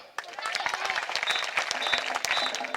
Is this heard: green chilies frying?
no